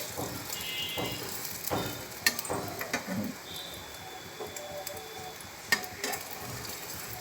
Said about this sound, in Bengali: একই পদ্ধতিতে এপিট ওপিট করে ভালো করে একটুখানি ভেজে নিতে হবে